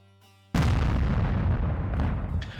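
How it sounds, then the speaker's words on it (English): A huge explosion in the sky lands after a short quiet pause as a sudden, loud blast, followed by a long, heavy rumbling roar that slowly fades. "A huge explosion in the sky interrupted."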